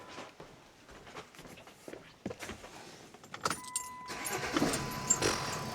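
Soft clicks and handling sounds come first; then a Jeep's Mercedes OM642 3-litre V6 turbo diesel, running from a jump pack with the battery disconnected, cranks and catches into a steady nearby idle.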